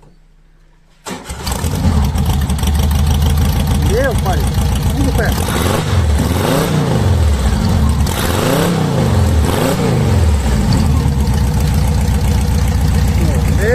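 A lowered 1973 VW Beetle with an aftermarket exhaust cranks to life after a moment of quiet, then roars through several loud, rising and falling revs up close, with someone talking over it.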